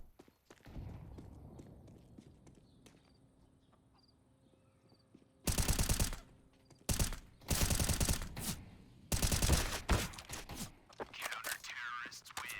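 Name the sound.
pistol gunfire in the video game Counter-Strike, Inferno map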